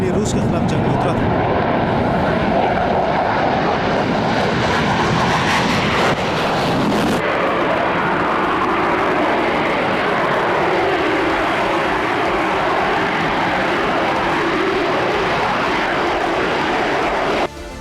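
An F-16 fighter jet in flight gives a loud, steady broadband roar that holds for about eighteen seconds, with a brief surge near the start before it settles into a constant rush.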